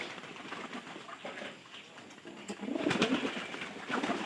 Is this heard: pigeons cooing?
yes